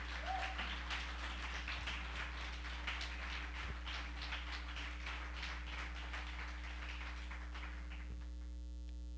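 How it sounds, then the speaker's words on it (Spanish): A church congregation claps in sustained, dense applause lasting throughout, heard over a loud, steady electrical mains hum. "Daniel dale un fuerte aplauso al Señor."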